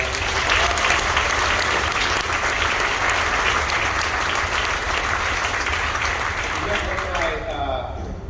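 A big audience at a university marching band concert applauds the camp staff, a thick, even wash of clapping held throughout at steady volume, easing slightly at the close with a voice faintly present.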